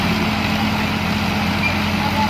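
A tractor engine strains in reverse, trying to pull a stuck vehicle. It gives a loud, constant low diesel drone with no let-up, and people talk over it.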